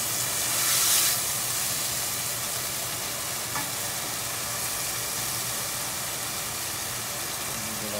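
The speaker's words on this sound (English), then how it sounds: "Our steaks are cooking. Again, these are skirt steaks." Ginger-marinated grass-fed skirt steaks sizzle in a hot pan, a steady loud hiss and crackle that carries on without a break, swelling briefly near the start, with no one speaking.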